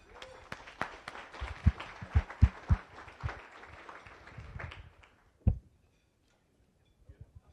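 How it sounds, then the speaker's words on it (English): A short burst of audience applause at a Rotary Club meeting in Las Vegas, scattered claps and some crowd noise with a few louder close hand hits, fading out before a final clap and near silence. "Another big round of applause."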